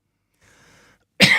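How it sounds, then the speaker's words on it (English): A single sharp, loud cough bursts out near the end, following a stretch of faint, low background murmur; a painter giving a live oil-painting webinar coughs close to the microphone. "sorry about the cough"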